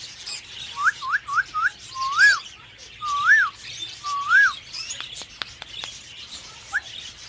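Budgies at a breeding farm give a quick run of bright, rising chirps and whistles, several in close succession and then a few spaced calls. They sound fairly near over a soft, steady background hum.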